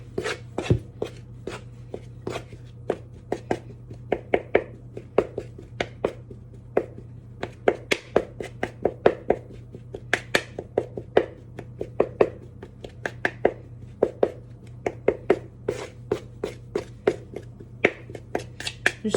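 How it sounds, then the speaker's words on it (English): A knife cuts through homemade pie dough on a board in repeated sharp chopping taps, irregular but quick, close and crisp against a quiet background with a low steady hum. "I'm cutting it with a knife."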